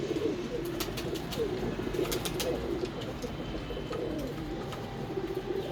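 A pair of surha pigeons coos steadily, with soft rolling low calls repeating close by, one bird alone without talk and a few faint chirps above.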